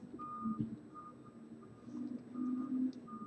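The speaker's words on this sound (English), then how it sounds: "the recycling truck's coming through outside. We're going to hear some noise here for a bit." Recycling truck backing up outside, its reversing alarm sounding as a steady series of beeps, muffled and somewhat distant, with a low engine rumble beneath.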